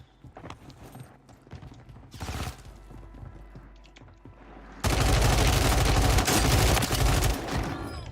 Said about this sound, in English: Got a sock puppet shooting at us.